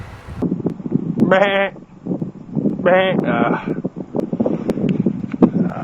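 Sheep bleat nearby, two clear wavering calls separated by a pause, over wind and rustling background noise.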